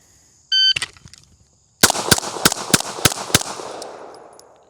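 A shot-timer beep, then after a short pause six rapid, loud pistol gunshots in an even rhythm, with ringing decay outdoors on a USPSA range during live fire practice.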